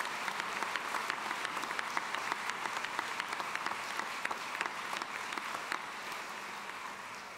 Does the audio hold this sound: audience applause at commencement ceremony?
yes